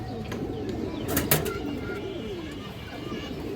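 A large black-necked female pigeon coos in soft, low rolling calls, heard nearby against steady background noise, with a brief clatter in the middle.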